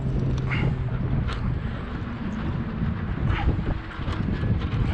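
Steady low wind rumble and buffeting against the microphone while kayak fishing for tautog in rough conditions, with faint water and movement sounds and no clear speech.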